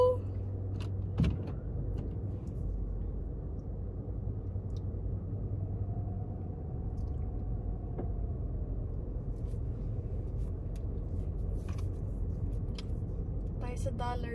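A car engine idles and then drives, a low steady rumble with occasional clicks and small knocks, while a person talks over it.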